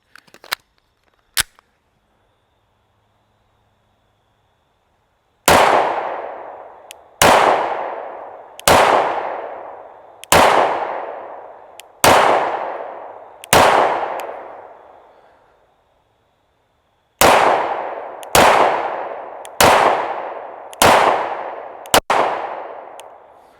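Staccato C2 DUO 9mm pistol fires two spaced strings of loud, sharp shots, about five then six, each ringing off steel targets with a clanging decay, after two faint early pops and no talking.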